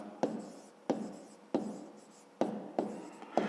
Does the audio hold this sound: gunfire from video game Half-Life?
no